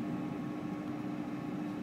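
A Ninja air fryer running in air fry mode at 375 degrees gives a steady low fan whir and hum, faint and unbroken throughout.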